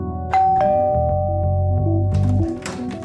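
A ding-dong doorbell chimes twice in a home during a staged crime drama scene, each clear tone ringing out and sustaining over a low hum, with no talk in between.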